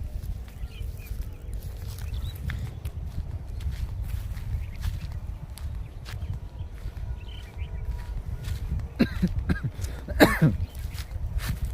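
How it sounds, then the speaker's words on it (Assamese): A person coughs outdoors in a plant nursery garden. A few short, sharp coughs come near the end over a quiet background of low rumble and faint shuffling, with no speech. "আজি মোৰ আকৌ কাহ হৈ আছে দেই"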